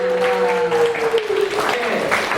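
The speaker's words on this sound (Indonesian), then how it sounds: "boleh dong tepuk tangan yang meriah lagi buat kalian." Audience clapping at an awards ceremony, a steady wash of applause lasting a few seconds, with background music tones sustained underneath.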